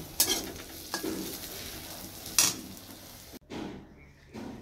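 Bitter gourd fries in a pan with a steady broadband sizzle, broken by a few sharp stirring scrapes and a brief pause near the end, alone without talk.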